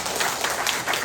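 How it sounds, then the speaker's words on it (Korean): Congregation at a Catholic Mass for the Ascension breaks into clapping, a brief, dense burst of hand claps from the assembly. "우리 박수 한번 쳐야 되겠죠?"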